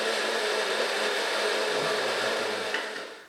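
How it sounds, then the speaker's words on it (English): A spice grinder blends onions into a fine paste for a restaurant-style korma, a steady high whirring drone that runs evenly, then winds down at the end. "I'm going to just use this to blend my onions up into a really fine paste."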